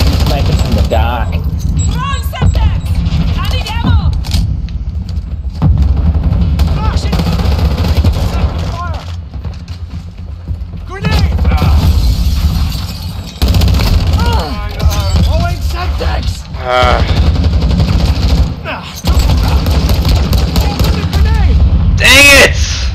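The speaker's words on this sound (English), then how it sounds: "he's sniping from the dock" Sniper rifle fire rings out in a shooter video game, sharp gunshots and bursts repeating irregularly over about twenty seconds along with mechanical clatter, mixed under frequent excited talk.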